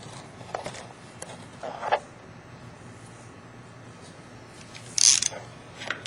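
A torque wrench tightens the OPTISEP 800 holder to 45 inch-pounds, giving short ratcheting clicks in a few separate bursts, with one sharper, louder click near the end; quiet and close, no talking.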